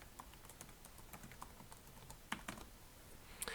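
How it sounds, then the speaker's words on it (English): Someone types a password on a computer keyboard while setting up a Linux root login, a run of quiet, irregular key clicks close by with a few sharper taps near the end and no talking. "I'm going to have to type in that password we just created."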